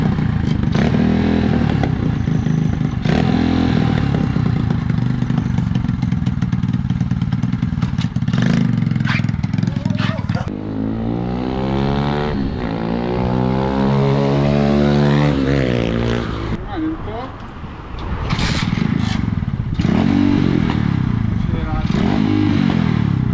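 A newly built motorcycle's engine runs loud and close, holding a steady rumble before climbing and falling through several long revs, then settling back to a throaty idle.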